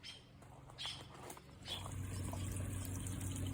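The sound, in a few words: garden water feature trickling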